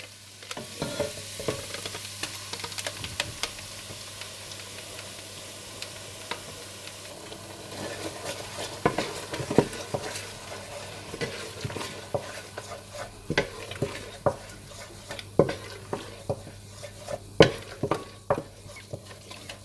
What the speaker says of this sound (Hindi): अदरक लहसुन भूनने के बाद आप इसमें दही और ब्राउन प्याज का मिक्सचर डालकर मिला लें।